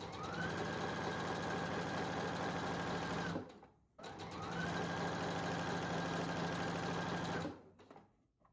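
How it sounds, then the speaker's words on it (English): Sewing machine running steadily while stitching the long side of white and red quilt pieces together for a stars and stripes pillow, in two long even bursts with a brief stop between them. "I'm just going to sew down the long side of a white and a red piece together."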